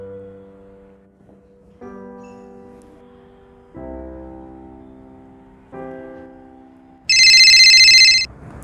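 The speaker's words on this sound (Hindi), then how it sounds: "अरे इतनी रात को किसका फोन है?" A phone ringtone plays a repeating melodic phrase in separate bursts, ending in a loud, shrill electronic ring.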